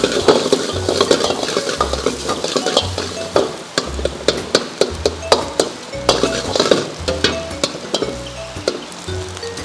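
Chopped chicken fries in a pan while being stirred, with repeated scraping and clinking of a utensil against the pan in an irregular rhythm over a soft sizzle, close and fairly loud, with no talking.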